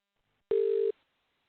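A steady electronic ringing tone during a webinar sounds once for about half a second, clear and fairly loud, then stops abruptly. No one speaks.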